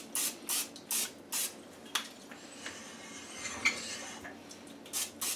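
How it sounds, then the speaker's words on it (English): Pam cooking spray is squirted inside a meat grinder used for chicken jalapeno sausage: a quick series of short, soft hissing bursts, faint and close, with a few light clicks in between. "I will spray"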